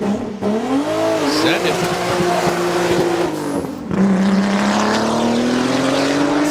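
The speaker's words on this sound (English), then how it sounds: "ripping the 84 Audi 4000" A 1984 Audi 4000 race car revs hard and accelerates at Pikes Peak, its boosted engine rising and droning loudly near the listener, with a brief shifting dip midway and a short spoken phrase over the roar.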